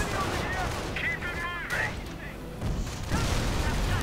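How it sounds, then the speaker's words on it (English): Gunfire and artillery explosions from a World War II real-time strategy game, with Panther and Sherman tanks and advancing grenadiers, come as dense, overlapping booms and shots in a continuous loud barrage, with a voice talking over it. "Panther taking direct hits. And artillery going in."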